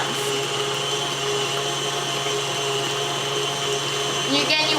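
An electric mixer beats cookie bar batter in a kitchen, giving a steady, even whirring drone that holds constant throughout with a slight rise at the very end.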